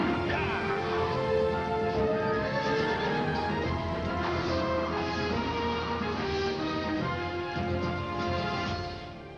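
Horse neighing and whinnying with hooves clip-clopping, set against a dense, continuous bed of sound throughout, fairly loud before easing off at the end.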